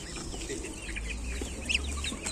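Chicks and goslings cluck and peep steadily amid a busy, noisy market background, with one brief sharper call standing out near the end.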